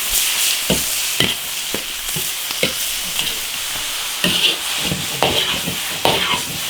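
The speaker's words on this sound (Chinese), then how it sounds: "爆炒1分钟，炒熟就行了。" Loud, continuous sizzling of food being stir-fried, with repeated scraping strokes of a spatula against a wok at an irregular rhythm.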